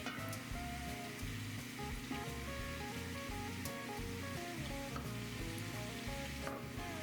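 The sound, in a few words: oil and flour roux sizzling while stirred in a pot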